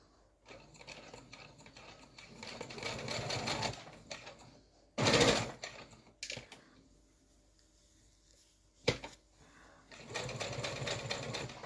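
A domestic sewing machine stitches a quarter-inch seam in several bursts of rapid, steady mechanical whirring, separated by pauses and a few sharp clicks, close and fairly quiet.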